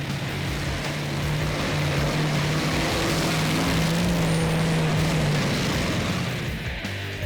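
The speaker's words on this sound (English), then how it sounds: "This monster truck was going all day." A monster truck giving rides at a Barbados motorsport event, its big engine droning steadily and loudly with a sustained low hum and slight pitch shifts throughout, no voices.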